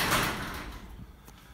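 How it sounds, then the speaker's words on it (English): A garage door, run by a Sonoff multichannel smart switch opener module, closes with a broad rumbling rush that starts loud and slowly fades, with no talk over it. "and now the door is closing."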